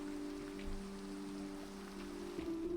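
Steady rain falling in Minecraft, a soft even hiss of drops under low sustained tones, faint and continuous throughout with no voices.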